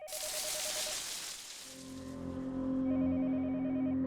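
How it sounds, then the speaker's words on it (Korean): A telephone rings inside the horror video game Yomawari, with a repeating electronic ring rising over a hissing, static-like ambience and a low sustained tone, at moderate loudness and with no voices. "또 전화가 울리네?"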